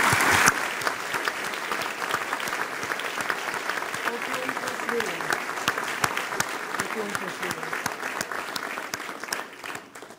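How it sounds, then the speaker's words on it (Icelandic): Audience applause at a 2019 university graduation ceremony, a dense, steady clapping from a large crowd that carries on for about ten seconds before tapering off at the end. "Og Arnar Hrönn fær klappir"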